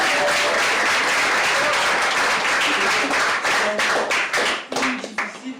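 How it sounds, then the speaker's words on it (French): A theatre audience at a French comedy show applauds, dense sustained clapping filling the room before it thins into scattered claps near the end. "Si vous pouvez les applaudir."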